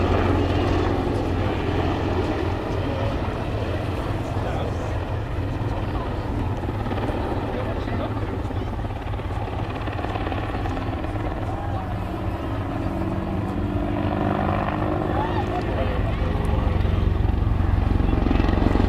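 An Army Air Corps Apache attack helicopter performs a 360-degree wingover at an airshow, its rotor thump and turbine roar constant and loud throughout, while an announcer talks over the public address.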